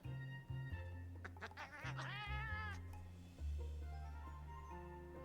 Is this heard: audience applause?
no